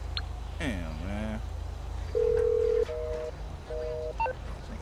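A phone call in the GTA 5 video game goes unanswered: button-press tones, then long steady ringback beeps repeat in a regular pattern while someone talks over them.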